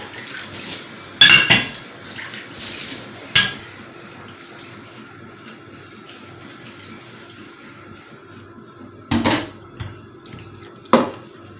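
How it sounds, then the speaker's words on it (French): Water is poured into a cooking pan in a home kitchen while Tunisian ojja is prepared, with a soft running trickle broken by several sharp clanks of pans and utensils. "je vais mettre un peu d'eau"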